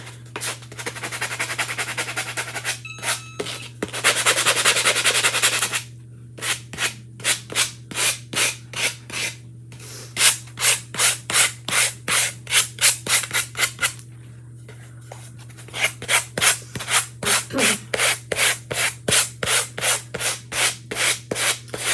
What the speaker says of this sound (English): Very old sanding block here. Okay, now I'm kind of rough those edges up here.